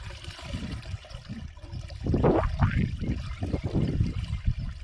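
Liquid pours and trickles steadily as a white solution is added to amirtha karaisal, an organic farming brew, swelling louder midway through the pour with light background noise.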